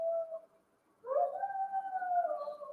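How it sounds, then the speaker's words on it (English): A dog howls outside in a long, wavering, mournful cry, faint and somewhat distant, with a short earlier howl fading out before the main sustained howl rises and holds. "There's a dog howling out there."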